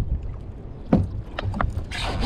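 A new kayak moves on the open sea while light jigging for fish, with paddle splashes and water sloshing against the hull over a constant background of wind noise.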